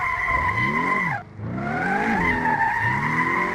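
A Porsche drifts in the Assetto Corsa racing game, its engine droning and rising through gear changes while the tires squeal continuously, with a brief dip around a shift before the revs climb again.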